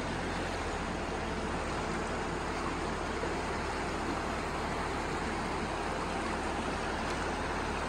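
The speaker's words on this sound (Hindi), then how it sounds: "पानी अभी भी बढ़ रहा है, अपने साथ काफी ज्यादा कबाड़ बहा के लेके आ रहा है।" Constant loud rush of a swollen, fast-flowing stream carrying debris during heavy rain, a continuous roaring wash with no pauses.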